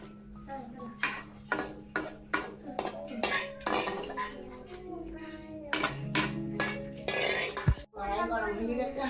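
A cooking pot of boiled cauliflower stalks is lifted off a gas stove amid a run of sharp metallic clanks and knocks of pots and utensils, spaced irregularly and fairly close.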